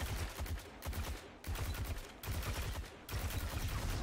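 Automatic rifle fire in Destiny 2, loud rapid bursts in about four sustained strings separated by brief pauses, with ricochets among the shots.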